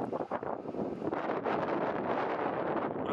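Strong gusty wind buffets the microphone outdoors beside an Audi A3, a steady loud roar of broadband rumble and hiss that swells and holds for about three seconds with no one talking.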